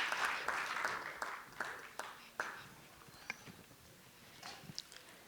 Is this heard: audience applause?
yes